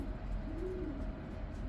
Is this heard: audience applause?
no